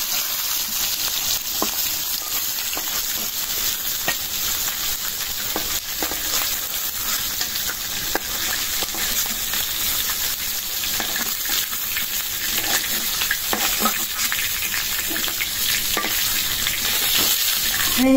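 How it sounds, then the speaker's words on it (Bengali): Fish frying in a good deal of hot oil, a steady loud sizzle with occasional stirring scrapes, continuous and close throughout with no voices. "মাছ ভাজা হয়ে গেছে, উঠাই দিই।"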